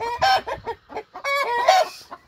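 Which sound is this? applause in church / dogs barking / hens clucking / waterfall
hens clucking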